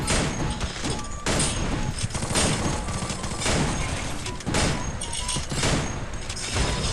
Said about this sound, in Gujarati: લીલો બોમ્બ નાખ